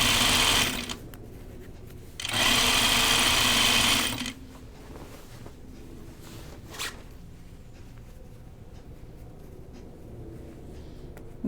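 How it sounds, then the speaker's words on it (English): A home sewing machine runs in two loud bursts of rapid stitching through pajama bottom fabric, separated by a short pause, followed by quiet handling noises. "Your home sewing machine's no problem to go through that."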